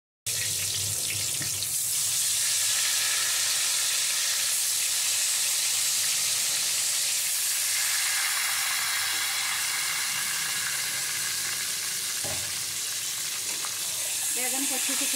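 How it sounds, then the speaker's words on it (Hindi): Eggplant slices fry in hot oil in a pan where hilsa fish was just fried, making a loud, continuous hiss and crackle that fills the whole stretch, with a couple of brief knocks partway through. "अभी बैगन को भी फ्राई कर लेते हैं।"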